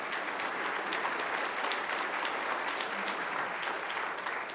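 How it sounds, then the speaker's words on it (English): A crowd at a city State of the City address applauds steadily and evenly throughout, a dense wash of clapping with no voices on top. "Applause now, Mark Robinson."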